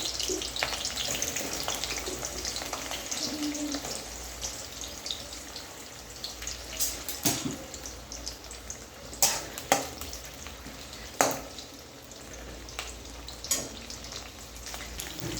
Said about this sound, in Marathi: हे बघा कांदा टाकते मी याच्यामध्ये आणि छान असा लाल होईपर्यंत फ्राय करायचा आहे